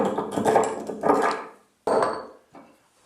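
A steel chisel pares a nut mortise in wood for a Moxon vise, giving three close, dry scraping bursts, the first two running together and a shorter one after a brief pause, with no talk.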